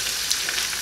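Pork chops laid into a hot pan over medium-high heat, a constant bright sizzle with tiny spits and crackles, close and even throughout, no one speaking.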